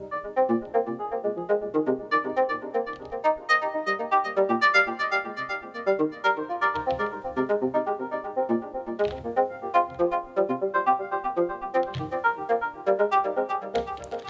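A variation of an arpeggio preset on an Elektron Digitone synth: busy, quick repeating synth notes with scattered sharp transient hits, steady and unbroken throughout, played alone without voices.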